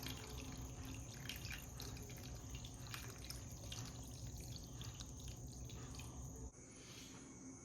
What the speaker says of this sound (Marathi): ह्याच्यात आता आपण पाणी टाकून ठेवूया